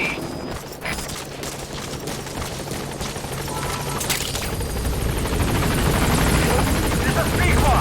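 A helicopter from the Metal Gear Solid V video game approaches a landing zone, its rotor roar building steadily louder across the stretch, with sharp transient bangs near the start and a voice speaking over it.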